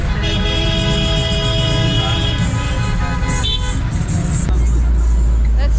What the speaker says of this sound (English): So we're stuck here since a couple of minutes already in the intersection in the traffic